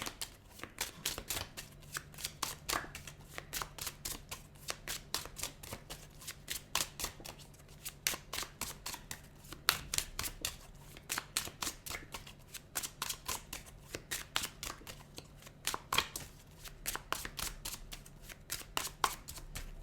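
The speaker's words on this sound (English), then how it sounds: "I'm just going to shuffle a few more times, and then we'll pull the cards" Tarot cards are shuffled over and over, a quick riffling patter of crisp flicks repeating in bursts, close and fairly quiet, with no talking.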